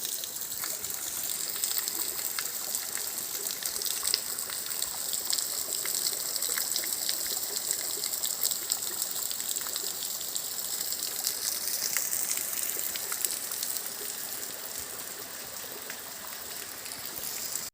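Steady rushing water of the Ram Jharna waterfall roars without pause, a broad continuous gush heard from nearby, with no voices.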